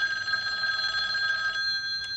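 A telephone rings in the film Friday the 13th Part 2: a steady electronic ring with a bright, sustained tone, loud and alone, lasting about two seconds before cutting off.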